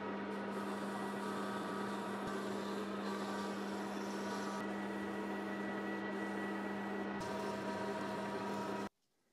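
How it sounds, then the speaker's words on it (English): A lathe parting tool cuts off metal stock for a simple horizontal steam engine build, giving a steady, loud machine whine with a scraping edge that runs continuously and then stops abruptly near the end. "Hopefully this parting tool will get through there."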